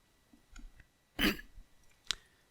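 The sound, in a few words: throat clearing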